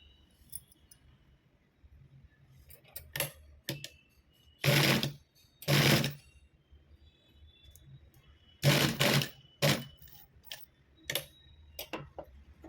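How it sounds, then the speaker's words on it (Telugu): Sewing machine stitching a hanging blouse latkan, running in several short, loud bursts of a second or less, separated by quiet gaps with scattered clicks and ticks, and no talking. "ఇలా ఫోల్డ్ చేసుకున్న తర్వాత ఈ బార్కి ఒక కుట్టు వేసుకోవాలండి"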